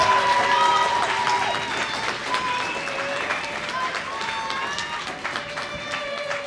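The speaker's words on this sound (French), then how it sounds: "Faites un tonnerre d'applaudissements pour Axelandro Farini" Applause from the audience at the final of an eloquence contest runs throughout at moderate level, mixed with music or tonal sounds and some crowd noise.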